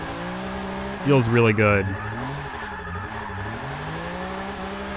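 A 1997 BMW E36 M3 drifting in Forza 6, with a steady engine drone and a brief, loud burst of squealing tires around the one-second mark. A person talks over it.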